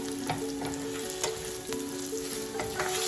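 Seeds roasting in a pan for dhal, browning: a continuous close sizzle and crackle with light stirring clicks and a faint steady hum underneath.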